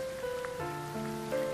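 Cartoon rain patters as a soft, steady hiss under sustained musical tones, brief and fairly quiet.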